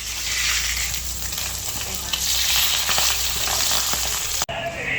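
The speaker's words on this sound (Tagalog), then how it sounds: "nagluluto na ng ulam" Food sizzling and frying in a home kitchen pan as a dish is cooked, a steady close crackle with occasional stirring clinks, alone without talk, cut briefly near the end.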